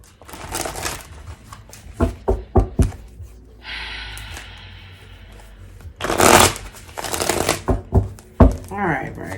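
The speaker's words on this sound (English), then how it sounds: "I'm getting 2 more shuffles" Tarot cards are shuffled in several quick riffling bursts, crisp flapping rattles close by, with soft taps and handling noises in between.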